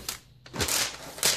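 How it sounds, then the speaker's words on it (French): Plastic wrapping crinkles and tears as a new Asus Zenpad S 8.0 tablet is unwrapped, a few short close rustling bursts with brief pauses between them. "Il est enrobé, il est protégé comme tous les produits neufs. Donc on va le déballer ensemble."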